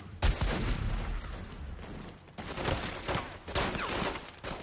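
Bursts of gunfire in The Godfather II video game, several sharp volleys of shots in quick succession, loud and close.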